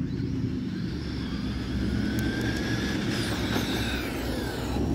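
A Traxxas Maxx V2 radio-controlled monster truck running outdoors at night, its electric motor giving a continuous loud whine with rising and falling pitch as it speeds up, close and steady throughout with no talking.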